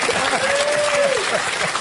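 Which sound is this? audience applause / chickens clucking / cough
audience applause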